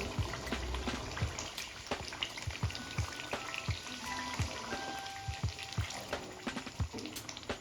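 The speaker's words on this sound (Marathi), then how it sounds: "आता आपण यामध्ये पाणी ॲड करणार आहोत" Water goes into a pan of chicken masala gravy, setting off sharp, uneven crackles and spits of sizzling over a soft background hiss, fairly quiet and close.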